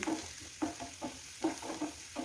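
Ginger frying in oil in a pan is stirred with a spoon, with regular scraping strokes over a steady close sizzle and no talking.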